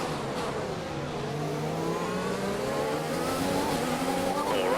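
Formula One cars in F1 2020 racing at China roar in a steady, dense engine drone, with rising and falling pitch lines from several nearby cars blending into one loud, continuous wash.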